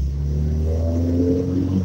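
A car accelerating hard on a quick pull during a drive home, a loud steady engine rumble with a rising tone, close and continuous with no talk.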